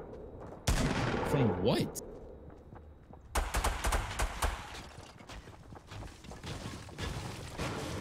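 Shotgun blasts in Fortnite Battle Royale: loud broadband bursts at the start, then a second volley of sharp shots with crackling tails around the middle, mixed with game sounds and people talking over it.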